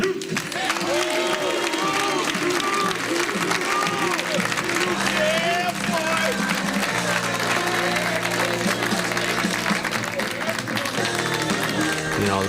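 A crowd applauding at a professional bowling championship welcoming a Hall of Fame bowler, dense sustained clapping and cheering filling the space for several seconds, with an announcer's voice over it.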